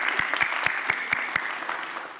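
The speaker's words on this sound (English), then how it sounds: "Well, is there applause for that?" Steady applause from a crowd fills the clip, with sharper individual claps standing out at a regular pace.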